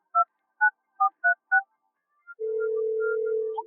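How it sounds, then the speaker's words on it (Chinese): A borrowed mobile phone dials a number: five quick evenly spaced keypad tones, a short pause, then a steady ringback tone holding to the end, clear and close with no speech. "别人的号码全记不住，只能打给于嫣了。"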